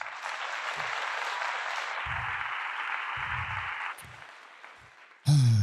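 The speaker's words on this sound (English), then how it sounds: "Round of applause for that." A round of applause, a steady burst of many hands clapping at an even loudness that tails off and softens near the end before a different sound cuts in.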